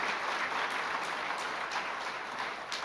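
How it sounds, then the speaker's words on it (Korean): A church congregation claps steadily for the choir, a dense, continuous wash of many hands filling the room from start to finish with no voices. "우리 박수 한번 합시다. 성가대를 위해서."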